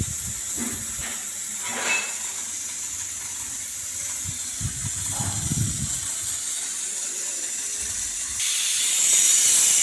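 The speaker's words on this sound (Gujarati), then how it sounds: "એક સીટી વાગી ગઈ છે" A pressure cooker cooking tempered rice hisses with escaping steam under faint kitchen clatter, then its whistle bursts into a louder, sharp, sustained release near the end.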